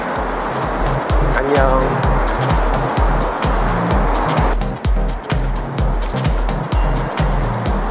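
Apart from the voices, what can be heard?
car driving off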